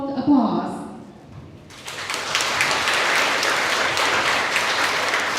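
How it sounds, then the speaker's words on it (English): A voice speaks briefly, then an evening event audience breaks into warm, sustained applause that continues steadily to the end. "Let's begin this wonderful night with warm smiles and round of heartfelt applause."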